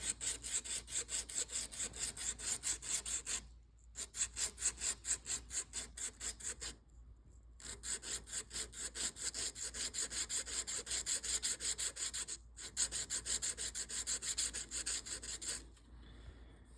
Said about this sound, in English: I can move on to the next grit, which is gonna be the 320. And the same process, back and forth.